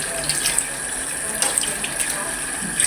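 Raw chicken for chicken sinigang with tomatoes is rinsed under a running kitchen tap, with a steady broadband stream of water hissing and splashing throughout.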